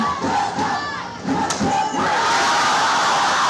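Girls' Little League softball teammates yelling and cheering loudly from a crowd at a World Series game between the Philippines and Maryland, a sustained roar of shouting voices that swells through the clip.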